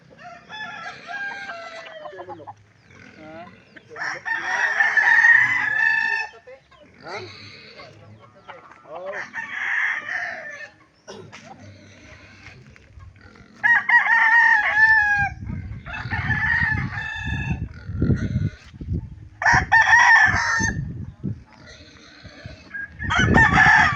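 Chickens cluck and a rooster crows repeatedly in bursts inside a chicken coop, fairly close, with scuffling and rustling underneath.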